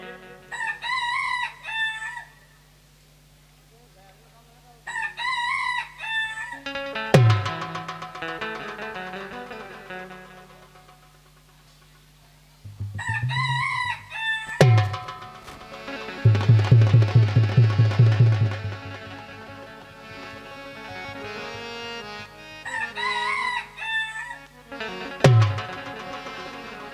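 A performer dressed as a rooster in a Ramlila stage play imitates crowing several times; loud, drawn-out cock-a-doodle-doo calls come in separate bursts over a low steady hum and stage music.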